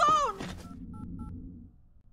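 A phone is dialed for a 911 call in the video game Class of '09: The Re-Up. A brief voice opens, then three short, faint keypad beeps follow in an even rhythm over a quiet background.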